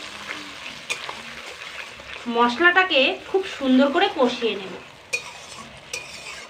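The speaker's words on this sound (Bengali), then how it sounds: "মশলাটাকে খুব সুন্দর করে কষিয়ে নেব।" Ginger and cumin paste masala fried and stirred in a pan, with soft sizzling and scraping strokes under a voice speaking through the middle.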